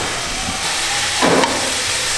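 Shrimp sizzle in a hot pan while cooking, a steady close hiss that swells briefly into a louder burst of frying before settling back.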